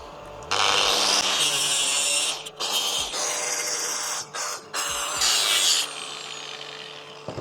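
A power tool cutting a small section off a stainless-steel capsule, loud high grinding bursts that stop and restart several times, with brief gaps between cuts and no voices.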